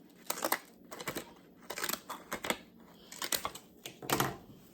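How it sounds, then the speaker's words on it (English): Decorative scissors snip paper for a wedding junk journal, several quiet, close crisp cuts in short irregular bursts with soft paper rustle between them. "I'm going to use my decorative scissors to do so"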